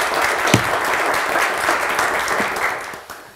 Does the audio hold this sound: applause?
yes